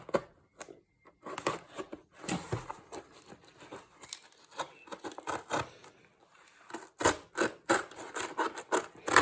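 Shipping parcel being opened up close, a run of irregular snips, rips, rubbing and crinkling of packaging with pauses between, faint and intimate.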